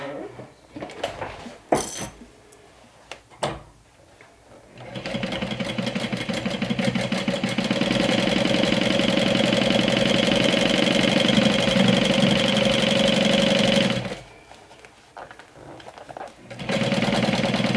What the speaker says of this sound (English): we're going to sew this down with a 1/2 inch seam allowance